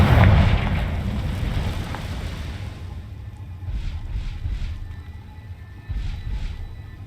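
A Confringo fire spell explodes in the video game Hogwarts Legacy with a loud, deep boom at the start that fades into a long rumbling, windy roar. Fainter whooshing bursts follow.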